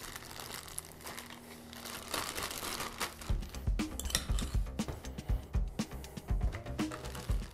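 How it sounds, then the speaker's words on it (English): A plastic bag is handled and filled with homemade grilled pig shots, steady close crinkling that turns into louder bumps and rustles as the food drops in, with no talking. "We're just gonna take a plastic bag and just move what we made"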